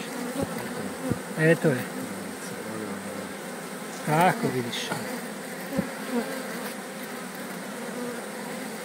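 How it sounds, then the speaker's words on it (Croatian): Honeybees from an opened hive at the end of winter keep up a continuous buzzing drone, close and steady, while a person speaks briefly over it. "Pogledajte kako pčele osjete gdje je ona bila"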